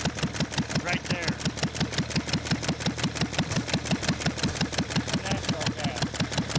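A 1.5 hp IH McCormick Deering stationary engine, built to run on casing gas from an oil well, pops in a steady rapid rhythm close by, with voices talking over it.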